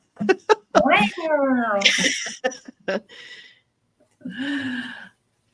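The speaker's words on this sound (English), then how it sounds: "I've got cats running back and forth." Several cats meow and caterwaul up close as they run back and forth indoors, a string of short chirps and a long wavering yowl, with brief giggling mixed in.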